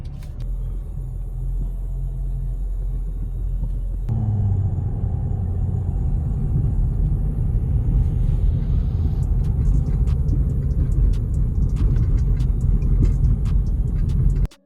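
A 2007 Mercedes ML350 on a road test, its steady low rumble of engine and tyres growing slightly fuller partway through, with road noise and faint ticks throughout and nobody speaking.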